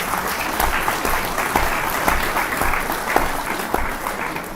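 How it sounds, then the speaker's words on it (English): A conference audience in a room applauds steadily, a dense wash of many hands clapping at close range that holds level throughout with no voices over it. "A big round of applause for everyone in the room."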